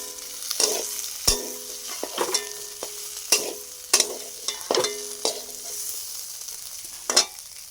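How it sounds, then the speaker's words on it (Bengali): Potatoes and eggs fry in a pan with a steady sizzle, broken by repeated scraping stirs roughly once a second, close and clear with no talking. "এখানে সুন্দর করে লাল লাল করে ভাজা হচ্ছে"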